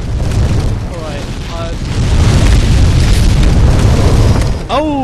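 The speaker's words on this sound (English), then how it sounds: "It doesn't seem like I can get across before it starts shooting its fire." A fire-shooting enemy in Demon's Souls lets out a loud, deep roaring blast that swells and holds for several seconds, close and dominant, with a brief voice near the start.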